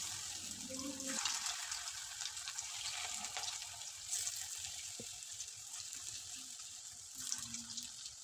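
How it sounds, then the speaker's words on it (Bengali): Cabbage Manchurian balls deep-fry in hot oil over full flame, giving a steady, dense sizzle that runs throughout, with a few faint clinks and no talk. "একই পদ্ধতিতে বাকি মাঞ্চুরিয়ান বলগুলো আমি ভেজে নেব"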